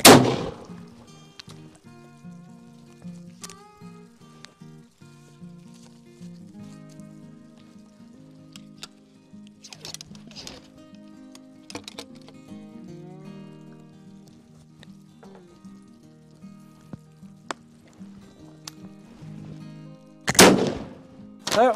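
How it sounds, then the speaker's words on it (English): Muzzleloader rifles fired at an outdoor shooting range during a shooting challenge, with a few sharp, loud reports spaced far apart, at the start, midway and near the end, over continuous background music. "this is high speed, low drag muzzleloader shooting"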